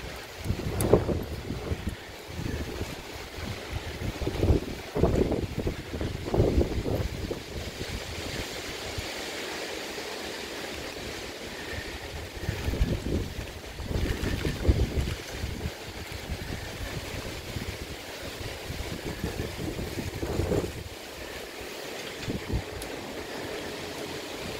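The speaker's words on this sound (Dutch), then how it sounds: "Ja, er is heel veel wind, ook al duidelijk is de storm te merken buiten Hulst." Strong storm wind blows across the town square in Hulst, loud rumbling gusts buffeting the microphone that rise and fall over about 25 seconds, with no talking.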